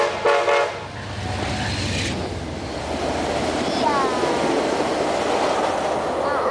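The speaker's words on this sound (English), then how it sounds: "That was a good horn honk." A VIA Rail train horn sounds at the Denfield Road Bridge with loud rumbling rail noise, and a brief rising tone cuts through the steady roar of the passing train.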